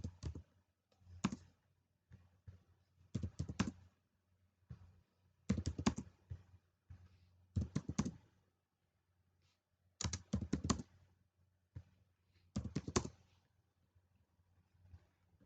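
Computer keyboard typing in bursts of rapid clicking keystrokes separated by short pauses, close and fairly quiet, with no talking.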